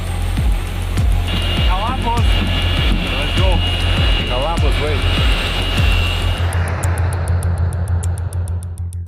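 A hockey team's plane landing at night, a loud, close jet engine roar, with people talking over it throughout and the engine noise dropping near the end.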